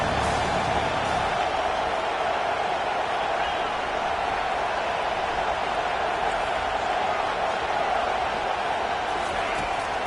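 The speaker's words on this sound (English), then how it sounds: "Decibels rising as the crowd gets behind this defense on 3rd down." Steady roar of a stadium crowd at a Clemson college football game, cheering the defense on third down, a dense continuous wash of noise filling the whole stretch with a commentator's voice over it.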